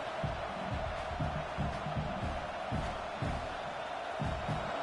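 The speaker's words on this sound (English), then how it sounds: "This crowd trying to make life miserable for this offense." A large stadium crowd in a football video game keeps up a steady, dense roar with a lower voice talking beneath it.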